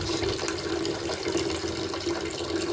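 Elephant-shaped bath toy spraying water into a filled bathtub, a continuous close splashing and gushing stream with no voices.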